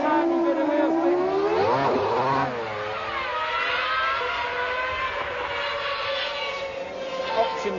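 A Formula One car's engine revs up sharply, then holds a high, steady whine with slight wheel spin; loud and close with no speech.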